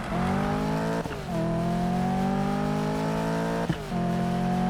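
A Corvette engine in the racing game Need for Speed 2015 holds a loud, steady roar close by, with two quick gear-shift dips partway through and no voices.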